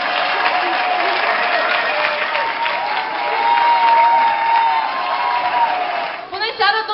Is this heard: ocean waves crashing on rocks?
no